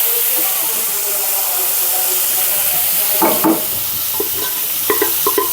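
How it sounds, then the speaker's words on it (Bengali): Flat beans (sim) sizzling and hissing in hot oil in a home kitchen at lunchtime, a steady broadband fry with a few sharp clatters of stirring near the end, no talk. "এখন সিম ভাজিটা তেলে দিয়ে দিচ্ছি"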